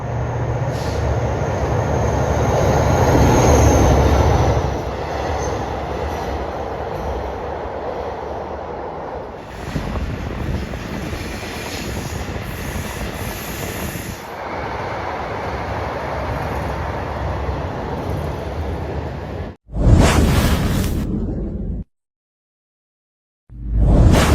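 A long-distance train rumbles steadily past at close range through Bang Son station in Bangkok, wheels clattering and a high metallic whine above the roar, before cutting off abruptly near the end.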